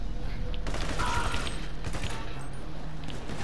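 Shotgun blasts from a video game crack out over a busy, noisy background, several heavy shots in quick succession near the start, with faint voices mixed in.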